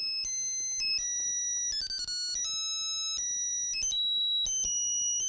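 A mobile phone rings with a melodic electronic ringtone, bright stepped tones that change pitch in a repeating pattern, close and clear with faint background noise.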